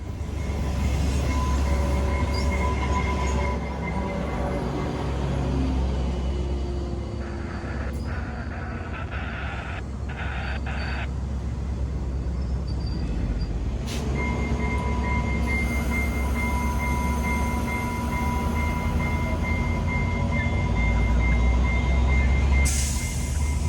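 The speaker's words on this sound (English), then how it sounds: "As our CPKC train passes by, so does yet another XO, this time in the other direction." A CPKC freight train rolls past in Montreal while an XO commuter train passes in the opposite direction, producing a loud, steady rumble of wheels and cars throughout, with sharp squeals and clanks near the end.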